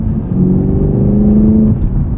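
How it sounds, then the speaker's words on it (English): A 2023 Chevrolet Camaro SS 1LE V8 muscle car accelerates, its engine note rising in a loud, steady climbing drone that holds for about a second and a half before easing off. "Driving around a V8 muscle car is all about the noise, the emotion, that feeling of power."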